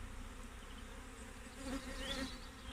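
Honey bees buzz in a low, steady hum during a hive inspection as they are shaken onto the top bars, swelling slightly louder partway through, with no talking.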